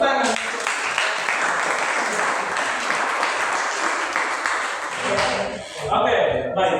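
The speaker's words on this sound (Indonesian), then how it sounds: "Oke, tepuk tangan." Classroom applause during an Indonesian maths lesson on surface area: dense, steady clapping from a room of students for about five seconds, then a voice speaks as it fades.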